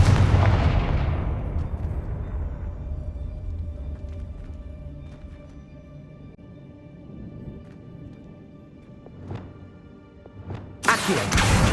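A Confringo explosive spell in Hogwarts Legacy, cast in the Forbidden Forest, opens with a loud, deep blast that decays slowly through a long rumbling tail. A few faint pops and thuds follow, then a sharp burst near the end.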